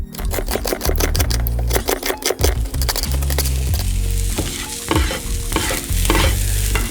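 Food stirred in a frying pan at home, with repeated scraping and clattering strokes over a steady sizzle, fairly loud and close throughout, no voices.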